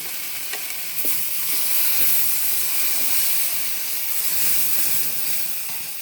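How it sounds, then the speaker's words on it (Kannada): Ground masala paste sizzling with tomato in a hot pan for okra saaru, a steady, loud frying hiss that holds evenly throughout with no voices. "ಈಗ ರುಬ್ಬಿರೋ ಪೇಸ್ಟ್ ಹಾಕ್ತಾ ಇದ್ದೀನಿ ಮಸಾಲೆ"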